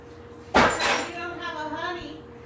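An empty glass paint bottle breaks with a sharp crash and then rattles and clinks as the shards settle, loud and close indoors.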